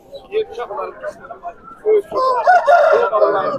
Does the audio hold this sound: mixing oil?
no